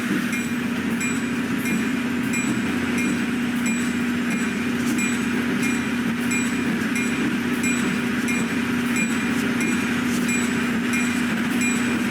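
An excursion train of New Jersey Transit Comet 1 coaches backs slowly into the Jersey City engine terminal, rumbling steadily nearby with a low continuous drone and faint rhythmic clicking of wheels over rail joints.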